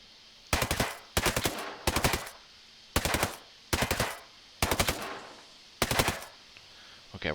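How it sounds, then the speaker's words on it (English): AUG Scout rifle fired on full auto in the shooter Ghost Recon Breakpoint: seven loud, close bursts of rapid shots, each roughly half a second long, separated by short quiet gaps. "So that's one mag. That's 30 rounds down."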